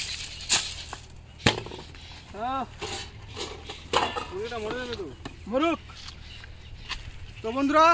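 Local village chickens cluck in short, rising bursts, several scattered calls over a few seconds, with a few sharp knocks in between.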